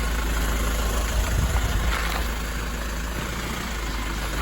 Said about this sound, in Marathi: आणि फायनली गाडी सुटलेली आहे